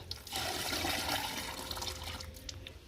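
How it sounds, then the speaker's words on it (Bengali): Water rushes and splashes into a mug for mixing oilcake fertilizer for a rooftop garden, a short steady gush close by that tapers off slightly toward the end. "আর এই যে দু মগের মধ্যে জল দিয়ে নেব"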